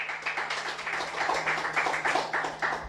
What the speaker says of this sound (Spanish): dele fuerte aplauso al Señor